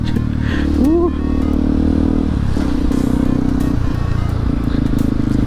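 A Kawasaki KLX 230 dirt bike idles and runs close by, shifted into the wrong gear, with a steady droning engine note and a brief clunk partway through. Faint voices are heard under the engine.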